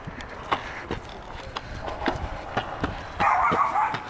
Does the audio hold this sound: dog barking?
yes